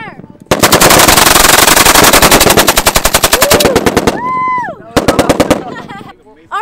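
A machine gun fires in long rapid bursts at army training, loud and close, with an evenly spaced rattle of shots, brief pauses, a second burst, and tonal whistles or vocal sounds between the volleys.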